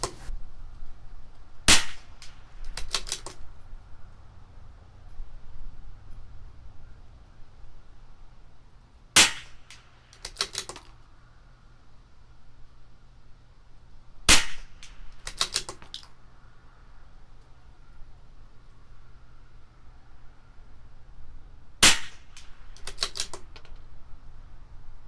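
A CZ 457 LRP rifle fires four sharp shots at 100 yards, each a crisp crack spaced several seconds apart, followed by quick clicks of the bolt cycling, outdoors with no speech.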